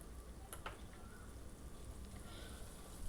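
Ground cumin, garlic and dried red chillies sizzle in hot oil as a tempering for a mung and spinach dish, a faint, steady crackling fry with a few small pops early on.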